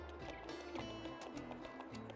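Rhythmic hoof clip-clop of a horse moving at a steady pace in Landwirtschafts-Simulator 22, mixed with a low game-world rumble and ambient background noise.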